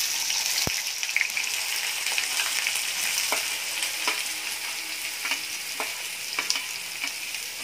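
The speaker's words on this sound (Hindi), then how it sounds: "अब हम इसमें प्याज डाल देंगे।" Chopped onions frying in oil with browned cumin for masala egg bhurji, a dense continuous sizzle broken by a sharp tap and regular spoon scrapes against the pan.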